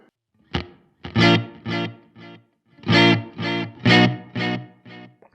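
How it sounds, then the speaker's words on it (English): Electric guitar through a Fender Mustang Micro with tape delay and reverb, a series of distinct chords and notes played in two rhythmic groups with short repeating tails, close and clear with no talking. "Next up, the tape delay and reverb."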